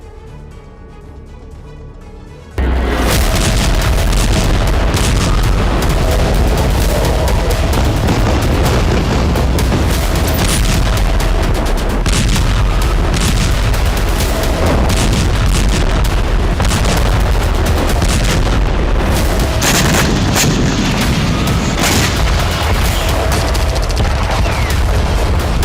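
Heavy blasts and rumbling artillery fire in Gaza strike in a dense, continuous barrage after a quieter opening few seconds, loud and booming throughout with repeated sharp bursts.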